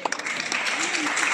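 An audience at a national cultural festival gives a short, loud round of applause, dense clapping that carries on steadily, with speech faintly mixed in.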